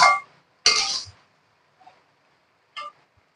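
A metal pot lid clinks as it comes off a pan of hilsa fish head curry with Malabar spinach stems. A few sharp, bright clatters sound close by, followed by a faint scrape and one more clink.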